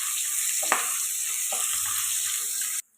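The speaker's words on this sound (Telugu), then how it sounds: "అలాగే ఉల్లిపాయలు, ఇవి ఫ్రై చేసుకోవాలి బాగా." Sliced onions with green chillies frying in a pan for paneer pulao, a loud continuous sizzle with a couple of stirring scrapes before it cuts off abruptly.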